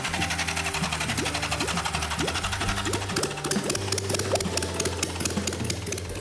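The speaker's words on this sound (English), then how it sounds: "As soon as I put power to that red wire, like a light switch, it started right up." A custom motorcycle engine with no exhaust or fuel tank fires up and idles with a rapid, raw mechanical clatter, loud and close, holding a steady beat as it runs.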